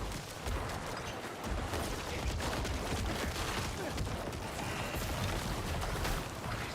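Necromancer corpse explosion effects in Diablo 4 form a dense, constant barrage of crackling blasts and bursts layered over one another, loud and unbroken throughout, with no talking.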